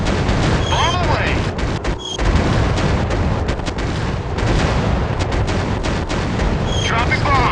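Bombs dropping and exploding during an air battle in a video game, a dense, continuous barrage of loud booms and gunfire-like blasts with whistling streaks, voices briefly heard over the din.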